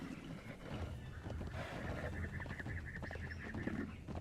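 A horse neighs in the Conan Exiles video game: a rising, wavering whinny heard over dense game noise and background sound, fairly faint and unclear.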